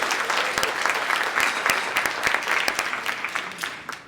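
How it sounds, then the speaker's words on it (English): A conference audience applauds in a dense, steady wash of clapping that fades slightly toward the end, with no voices over it. "So big round of applause for her."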